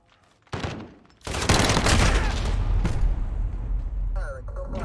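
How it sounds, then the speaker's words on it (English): Rapid sustained automatic gunfire in the video game Modern Warfare, loud and close, with a burst of shots followed by continuous firing and explosive rumble; a voice speaks under the shooting. "Firing, still firing."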